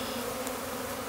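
A honeybee swarm settling into a hive gives a steady, dense buzzing drone of many wings, close and continuous with no voices over it.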